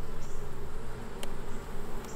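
A dense, steady buzz of many honeybees at a weak hive swarms close by, a continuous insect drone with a few sharper clicks.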